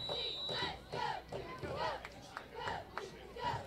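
A large group of cheerleaders chants in rhythmic, repeated shouts from a distance at a high school football game, with a commentator's voice over the crowd.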